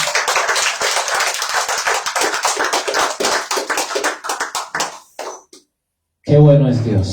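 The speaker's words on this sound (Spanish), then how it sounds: "Denle un aplauso al Señor." A church congregation claps in a quick, uneven patter for about five seconds, thinning to scattered claps before it stops, with a voice speaking right after.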